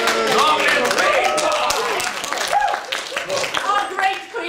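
An audience at a Tudor-era play cheering and clapping for the Queen, dense close applause with raised voices that stays loud throughout and eases slightly near the end.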